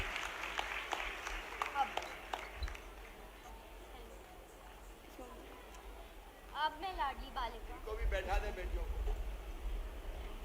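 A short burst of audience clapping at the start fades out, followed by someone speaking Hindi into a microphone in a hall at a government welfare scheme event.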